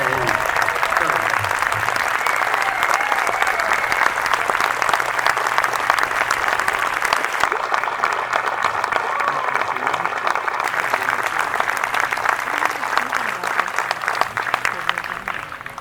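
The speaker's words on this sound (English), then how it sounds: "I would just like for you to recognize our Grand Marshal today with a large round of applause, Mr. Wayne Stern." A large outdoor crowd at a Memorial Day celebration in Miamisburg applauds the Grand Marshal with sustained, dense clapping that holds steady for the whole stretch, with some voices mixed in beneath the applause.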